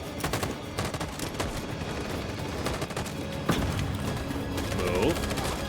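Gunfire in the game Detroit: Become Human, with repeated sharp shots and rattling bursts spread across a busy, mechanical background, one louder crack standing out midway and the firing building again toward the end.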